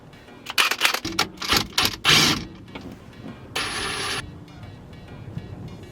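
A 17mm tool loosening the short hub behind a car steering wheel: close, loud bursts of rapid ratcheting clicks in quick succession, followed by a steadier mechanical whir that stops abruptly.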